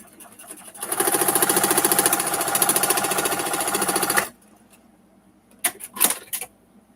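Sewing machine stitching quilt block pieces together: a loud, rapid, even mechanical clatter runs for about three seconds and then stops abruptly, followed by a few short clicks and handling noises.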